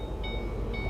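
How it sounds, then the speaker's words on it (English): A Ford Mustang's key-in warning chime beeps softly twice in a quick repeating pattern over a low background rumble. "that's alarm from the car telling you that the key is still in"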